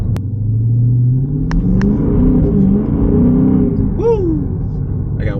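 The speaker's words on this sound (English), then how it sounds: "That's some good acceleration right here." A 2023 Dodge Charger SRT 392 Scat Pack engine rumbles loudly and rises in pitch as the car accelerates, heard from inside, with a short vocal exclamation near the end.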